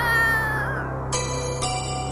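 Cat meowing indoors, a drawn-out mewling cry followed by two shorter meows, fairly close, over a low steady hum.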